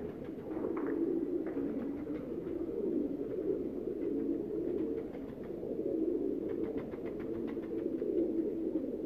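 Pigeons coo steadily and softly in a rooftop loft in Faisalabad, a continuous low murmur of overlapping calls with a few faint higher chirps, no voices present.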